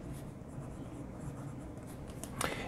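A Moonman M600S fountain pen with a steel fine nib writing on paper, a faint, close, soft scratching with small strokes and a slightly louder scrape near the end.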